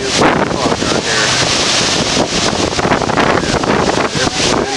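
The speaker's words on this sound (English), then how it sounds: "Windy ass day from the Hurricane Ike in Texas." Strong wind from Hurricane Ike in Texas roars loudly and continuously against the microphone outdoors, buffeting in heavy gusts with no talking.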